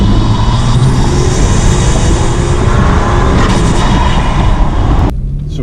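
BMW M4/M3 S55 engine with MHD tuning and antilag, loud continuous drivetrain roar while driving at speed, with crackly broadband bursts throughout that cut off abruptly near the end.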